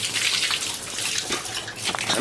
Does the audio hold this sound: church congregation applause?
no